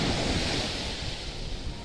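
Ocean waves break along a beach, a loud, steady wash of surf with wind noise over the microphone and no voices.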